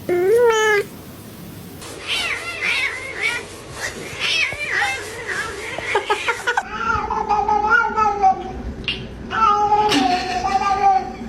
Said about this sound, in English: Which meow was your favorite?